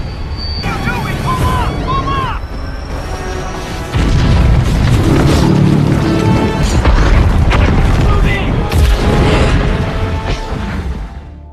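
A film scene in which a helicopter crashes and explodes: a loud, heavy booming rumble sets in and swells into a sustained roaring blast beneath layered score and effects, then thins out slightly at the end.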